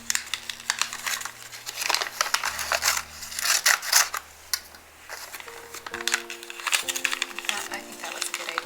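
Scissors cutting wrapping paper in a series of quick snips and crisp rustles, close and fairly soft, with music playing quietly underneath.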